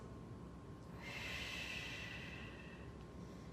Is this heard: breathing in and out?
yes